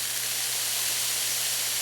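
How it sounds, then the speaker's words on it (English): An old fridge compressor repurposed as a pump, running and spraying oil, heard as a steady, close hiss with a low hum underneath for the whole short moment. "It's spraying friggin' oil all over the place"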